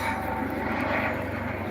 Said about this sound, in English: oh god, that bloody helicopter's out again.